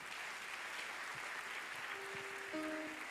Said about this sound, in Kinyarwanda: Dukomere Imana amashyi kubwa bene data ahangaha.